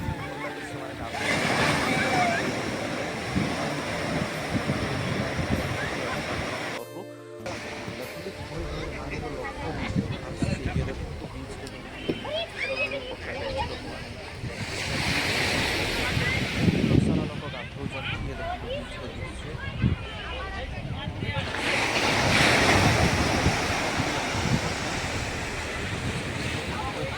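Sea waves roll onto the beach at Digha, with surges of surf rising and falling in broad swells under steady wind and people talking over the shore noise.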